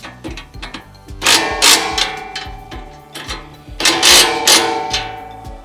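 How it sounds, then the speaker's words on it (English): A 1/2-inch socket and wrench tighten bolts on a metal backpack sprayer rack, giving close, loud bursts of rapid ratcheting clicks separated by short pauses. "Let's grab our 1/2-inch socket and wrench, and we'll tighten the 4 bolts."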